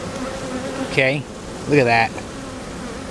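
Honey bees buzz around an open hive in a constant, close droning hum, with a person speaking briefly twice over the swarm.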